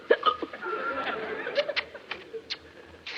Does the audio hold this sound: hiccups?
yes